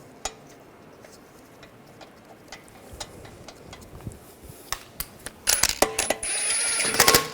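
Lug bolts are started by hand and threaded onto the wheel of a 2009-2010 BMW 535 xDrive, giving sparse close metallic ticks and clinks that build into a denser rattle of clicking near the end.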